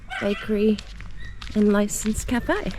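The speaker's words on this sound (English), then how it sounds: "As you can tell, you might be able to hear, the dogs are in the car" Dogs shut inside a parked car bark and yip in short bursts at close range. Talking runs under the barks.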